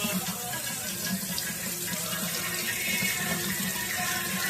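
Tap water runs steadily into a sink during handwashing in a home kitchen, a close, continuous splashing rush that holds constant with no talking.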